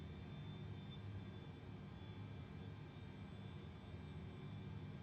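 Airbus engines 1 and 2 spool up in Microsoft Flight Simulator 2020, a steady broadband turbine rumble with a thin high whine, constant and moderately loud with no voices.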